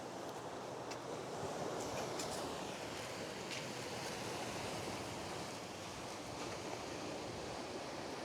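Waves wash onto a rocky beach under steady wind, a constant, distant roar of surf with faint rushing bursts and no voices.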